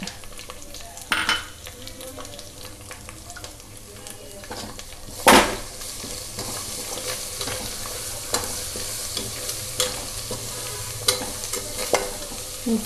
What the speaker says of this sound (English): Now to this we have to add chopped garlic.